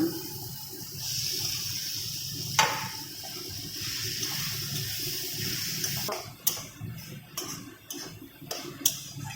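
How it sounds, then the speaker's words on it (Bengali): Water poured onto cabbage in a cooking pan, a steady hissing pour for several seconds followed by a run of sharp clicks and taps, close and moderately loud with no talking. "এবার বাঁধাকপিটা আমি অল্প একটু জল দিয়ে দেব অল্প পরিমাণে জল দিলাম"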